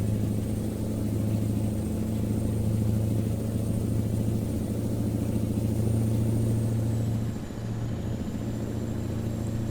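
Mack Superliner truck engine in American Truck Simulator, a steady deep diesel drone with a strong low hum and a faint high whine, briefly dipping near the end as the load shifts.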